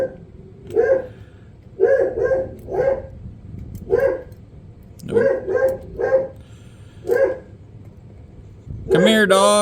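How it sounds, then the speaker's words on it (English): A dog barks in a series of sharp, loud, close barks spaced about a second apart, followed by a higher whimpering yelp, with a person's brief voice mixed in. "Come here, dog."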